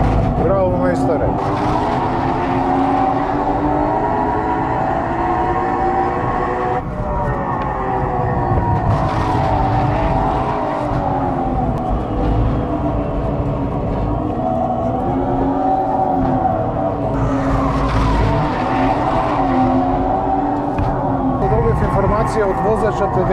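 Synthetic engine sound from an electric Opel Corsa with a 136-horsepower motor, a loud, continuous droning tone that rises and falls in pitch as it accelerates, with passing whooshes and occasional speech over it.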